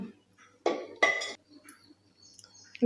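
Garlic spinach (lasuni palak) being spooned onto a plate in a home kitchen, giving two short clinking, scraping bursts of utensil against dish, with faint quiet clatter between them and no talking.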